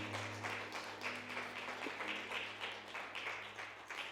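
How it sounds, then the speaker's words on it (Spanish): Steady applause from a church congregation, a continuous wash of clapping with a low hum underneath, moderately distant. "Dale ese aplauso al Señor."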